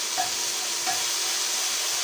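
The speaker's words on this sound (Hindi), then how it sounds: "लहसुन अदरक के पेस्ट को हम हल्का सा भून लेंगे।" Garlic ginger paste frying lightly in a pan for samosa filling, a steady soft sizzle and hiss with faint stirring scrapes, close and continuous with no talking.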